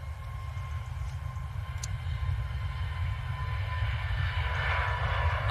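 An EasyJet airliner rolls down the runway for takeoff at Manchester Airport, its engines a steady, moderately loud roar with a low rumble that builds slightly toward the end.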